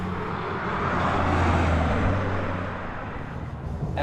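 BMW M2 driving past, a broad rushing engine and road roar that swells to a peak and then eases off as the car moves away.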